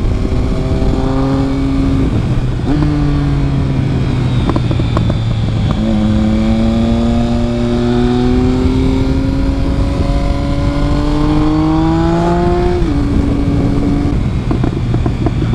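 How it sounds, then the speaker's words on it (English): A Triumph Speed Triple 1050 motorcycle decelerates into turns, its loud close three-cylinder engine note falling repeatedly in pitch, with crackling overrun between the rising and falling sweeps. "Decelerating coming into turns is the best part about this bike."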